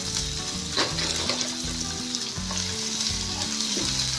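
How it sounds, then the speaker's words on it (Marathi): Garlic, ginger and peanuts roasting in a hot pan for a rice pakoda recipe, a steady loud sizzle and crackle with occasional stirring scrapes, no talking. "व्यवस्थित ह्याला 5 मिनिट भाजून घ्यायचं आहे।"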